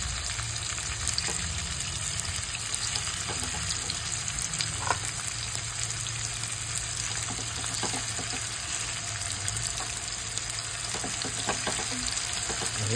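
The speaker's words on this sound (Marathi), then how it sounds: "हे फ्राय होतील." Mutton chops fry in a pan with a dense, continuous sizzle that stays even and close for the whole stretch, with occasional faint pops and no voices.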